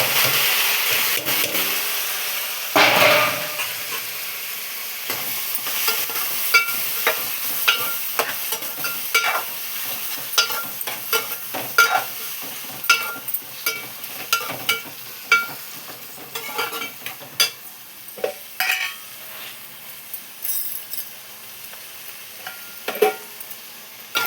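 Onions and tomatoes fry in a pan with a soft continuous sizzle, punctuated by repeated sharp clicks and scrapes of a spoon stirring against the metal, and no talking.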